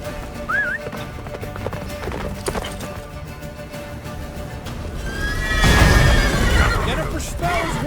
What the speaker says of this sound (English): Faster, Roach. Don't stop